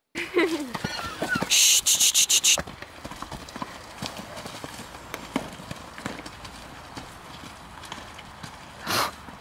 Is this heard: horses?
yes